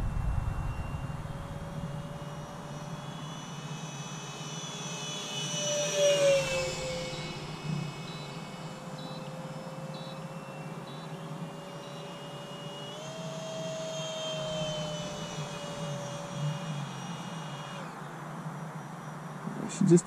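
A Freewing Stinger 64 RC model jet on a 4S battery whines steadily overhead, its engine pitch rising and falling slightly as it passes, a continuous buzzing drone with faint background noise.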